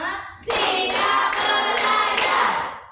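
A class of children claps the counted concentration clap, bursts of hand claps in a rhythmic sequence of about five groups, loud and close with no talking.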